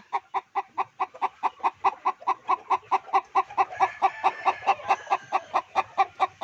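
Two brooding hens sharing a single nest on a farm give a rapid, regular series of close clucks, about three per second, steady and rhythmic with a faint background tone.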